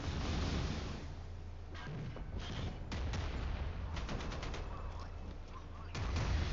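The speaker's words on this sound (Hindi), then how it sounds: "इसने मिसाइल लॉन्च किया।" A missile launch and gunfire during a naval battle video game: a steady low rumble broken by bursts of rapid automatic fire and sharper blasts.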